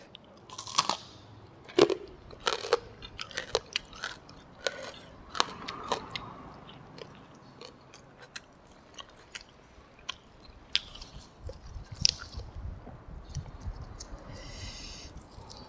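Someone eats crispy pork rinds with sticky rice and tuna-eggplant soup, giving close, loud crunching bites and chewing in uneven bursts, with faint sniffs between.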